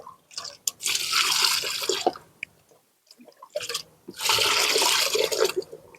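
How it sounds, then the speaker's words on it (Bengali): Water poured into pots to fill them before planting tubers, two bursts of splashing, gurgling flow separated by a short pause, close and fairly loud. "এইভাবে জল দিয়ে আমি পাত্রগুলো ভরে দেবো।"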